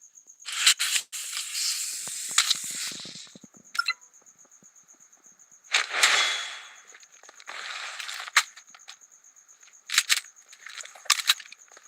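Toxic grenade gas in Blood Strike hisses in several bursts, some long and sustained, others short sprays, broken by sharp clicks and cracks against a faint steady electronic tone.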